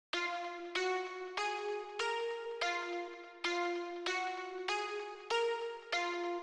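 A bright plucked synth repeats short, evenly spaced notes in a trap beat, each with a sharp attack and quick decay, sounding alone, clear and steady throughout.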